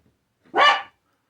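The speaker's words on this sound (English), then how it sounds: "They're just little dogs." A single sharp yap from a little dog, close by and fairly loud, lasting under half a second amid otherwise quiet surroundings.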